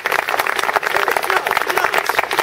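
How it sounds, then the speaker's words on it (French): Theatre audience applauds during a stage performance, a short burst of dense, loud clapping from a crowd that carries evenly through to the end. "Ouais, facile un grand applaudissement aussi pour Turchino"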